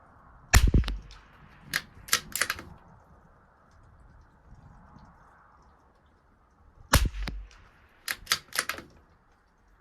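Shots from a rimfire rifle firing SK Rifle Match ammunition at 100 yards, heard as two groups of sharp, close reports, each with a few quick cracks and clear quiet gaps between them.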